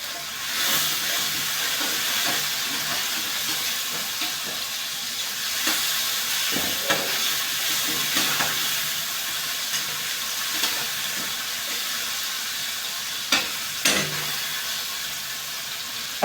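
A tomato mixture for a chavdar shenga dish sizzles and hisses steadily in a pan over a high gas flame, a continuous close frying hiss broken by a few faint clicks and stirring knocks.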